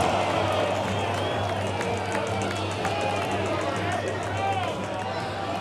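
Golf gallery at a LIV Golf tournament in Houston murmuring and then cheering as a putt rolls toward the hole, with scattered claps and commentators talking over the crowd noise.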